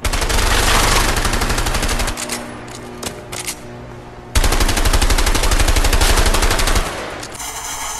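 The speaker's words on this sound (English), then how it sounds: "I'm gonna gun you down." Rapid automatic gunfire in the video game A Way Out, loud and close, with long sustained bursts broken by a short pause and a few single shots, no talk heard.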